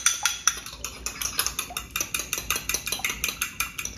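An egg being worked by hand into a dry mix of dough for a quick, flourless Moroccan ghriba biscuit, heard as close, rapid, regular wet clicking and slapping strokes with no talk.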